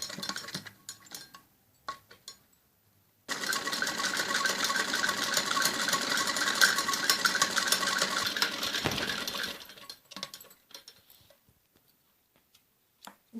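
A sewing machine stitching the side seams of a kameez runs in one continuous whirring stretch of about six seconds, close and steady, with scattered small clicks and fabric handling before and after.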